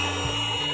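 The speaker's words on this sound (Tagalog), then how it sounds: "Yan, pinanda na po yung blower." An electric blower runs steadily and fairly loudly, with a constant broad whoosh and a low motor hum whose pitch shifts slightly, and no voices over it.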